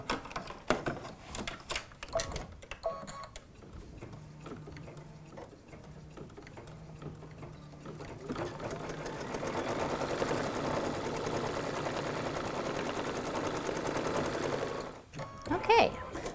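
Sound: embroidery machine stitching a design in a hoop

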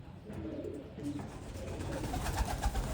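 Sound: pigeons cooing while drinking medicated water

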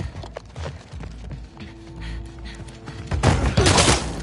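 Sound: gunshots in video game The Last of Us Part II

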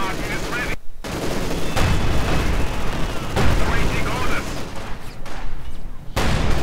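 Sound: gunfire from Stuka and Panzer 4 in Company of Heroes 2 video game

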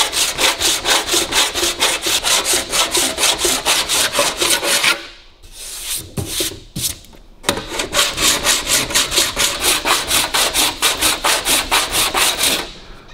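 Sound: fine-tooth saw cutting alloy metal

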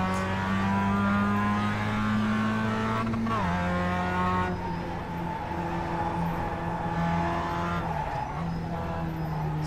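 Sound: Mazda MX-5 race car engine in iRacing video game

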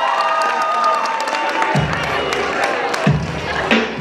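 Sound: audience applause and cheering

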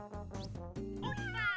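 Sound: cats meowing in the video game Tasty Planet: Back for Seconds

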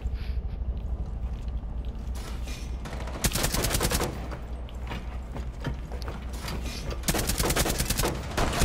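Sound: gunfire in video game Rainbow Six Siege

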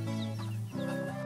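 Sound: chicks clucking

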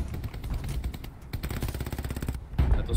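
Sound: gunfire in the video game Hell Let Loose

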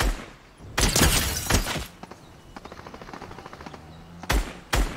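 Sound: gunfire from the video game Fortnite

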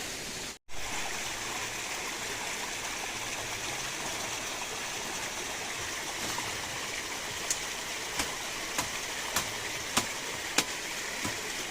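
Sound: waterfall stream flowing

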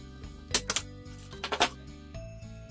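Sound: single hole paper punch cutting a notch

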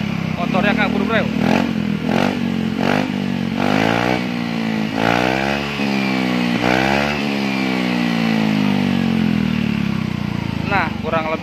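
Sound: Yamaha Mio Gear 125 scooter with SKR Racing exhaust revving

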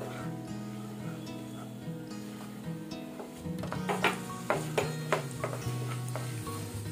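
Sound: moong dal frying in a pan for halwa

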